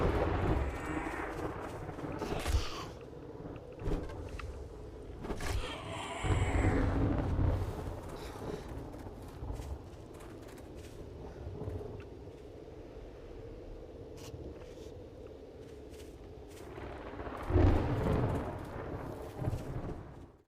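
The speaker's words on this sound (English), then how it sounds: "So this is a burnt forest storm" Burnt forest storm in 7 Days to Die, low rumbling thunder rolling through a dark, gusty ambience with heavy booms early and near the end and quieter rumbles between, no talking.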